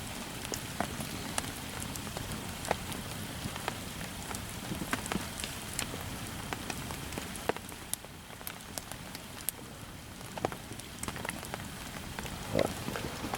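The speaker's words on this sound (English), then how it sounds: "Still raining." Steady rain falling on a wilderness shelter, a continuous patter of drops with occasional sharper taps, even and moderately loud throughout.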